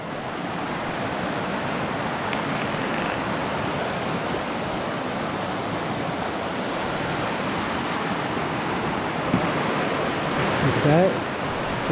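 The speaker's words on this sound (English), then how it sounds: "I don't know the name of the river." A river flows near Christabel Hut as a continuous broadband rush of water, steady and fairly close, with faint brief voices near the end.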